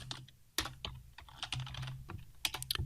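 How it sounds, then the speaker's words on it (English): Fingers typing variables on a computer keyboard, with irregular bursts of close, crisp key clicks and a few sharper, louder strikes near the end, alone without voices. "we can just type the variables in that we assign"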